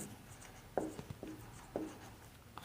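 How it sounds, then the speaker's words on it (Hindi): Black marker squeaking across a board in a chemistry class, with three short rising strokes standing out over steady room noise and soft scrapes in between. "ब्लैक मार्कर से लिखते हैं, अच्छा समझ में आएगा"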